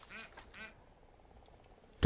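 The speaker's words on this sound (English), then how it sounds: "Duck, shut up." A cartoonish duck in Far Cry 5 gives two quick quacks near the start, then fades into quiet game ambience, with a sharp thump at the very end.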